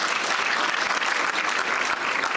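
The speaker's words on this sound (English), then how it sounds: "Please clap for them." An audience applauds at the KCB WRC 2024 rally launch event in Kenya, a thick continuous roar of clapping hands that stays loud and unbroken throughout.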